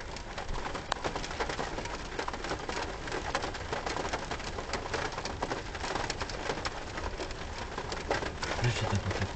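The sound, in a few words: rain falling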